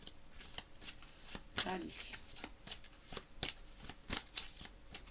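Large tarot cards being shuffled by hand in a series of soft riffling bursts, with someone speaking French briefly over them at close range.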